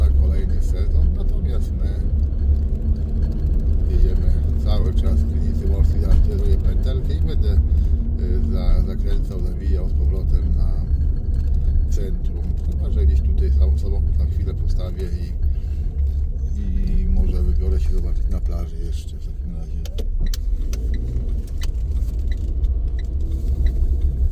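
A car rolls along a road through Krynica Morska, heard from inside as a constant deep rumble of engine and tyres, with someone talking over it throughout.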